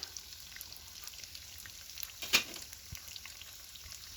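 Potato donuts frying in hot oil in a wok give a steady soft sizzle and crackle throughout, with one brief louder spatter midway and no voices.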